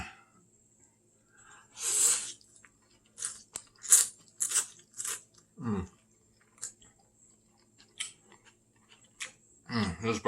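Soft pho noodles being eaten, with a string of wet chewing and slurping bursts spread across the clip, close and fairly loud, plus a couple of deeper thumps; no talking.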